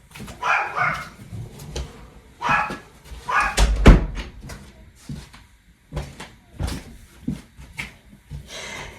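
A dog indoors lets out several loud, sharp barks in uneven bursts, alerting to people and other dogs outside, with pauses between volleys and a door-like knock among them.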